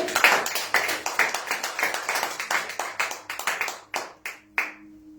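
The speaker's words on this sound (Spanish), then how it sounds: "Dale un aplauso al Rey." A church congregation claps along in rhythm, steady repeated handclaps that fill the room with a few louder accented claps near the end, close and fairly loud with no voices over them.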